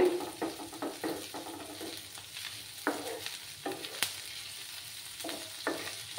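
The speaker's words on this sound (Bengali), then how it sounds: "দিয়ে একসঙ্গে ভালো করে একটু ভেজে নিতে হবে" Grated ginger fries with spicy potato masala for dhaba-style alu in a pan, with a low sizzle broken by repeated scraping strokes of a spoon as it is stirred.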